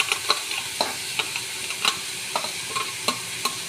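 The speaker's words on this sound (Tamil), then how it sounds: "இப்போ முட்டைக்கோஸ் போடுறோம்." Cabbage frying in a pan with curry leaves, a steady sizzle broken by sharp scrapes and knocks of a spoon stirring at irregular intervals, close up with no talk.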